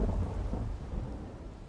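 Storm Barry comes ashore on the coast near New Orleans, with a heavy continuous roar of rain and low rumbling thunder, loud and close, and no voices.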